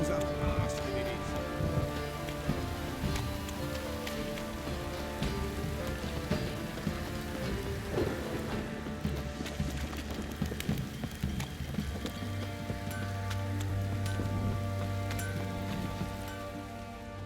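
A heavy downpour in The Witcher 3, a continuous dense hiss of rain on surfaces that runs steadily throughout, with game music and ambience mixed in underneath.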